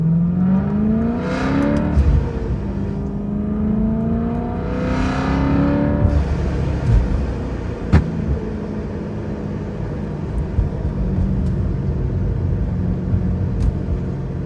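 A BMW E92 M3 engine climbs through two rising revs toward 4,000 rpm while driving, then settles into a steady rumbling cruise with road noise, no talking.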